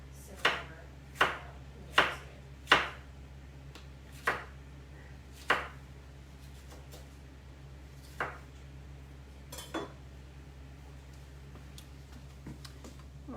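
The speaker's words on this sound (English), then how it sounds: "I'm going to quickly slice up some more" Knife chopping toppings for a BBQ pulled pork pizza with blue cheese, a series of sharp, close taps against a board, quick at first and then sparser, over a low steady hum.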